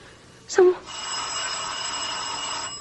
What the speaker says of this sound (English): who could be ringing the bell at this hour?